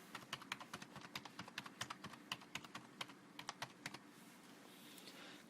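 A card number is typed on a computer keyboard as a quick, irregular run of crisp key clicks, close and fairly quiet, pausing near the end, with no speech.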